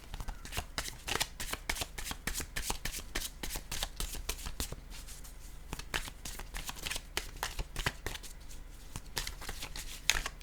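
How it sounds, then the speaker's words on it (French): A deck of tarot-style cards is shuffled continuously at close range, with rapid crisp riffling and flicking that keeps a quick irregular rhythm at low volume with no talking. "Je vais maintenant piger une carte, un message de l'univers."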